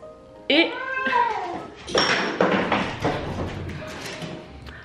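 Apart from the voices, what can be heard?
cat meowing and thumping around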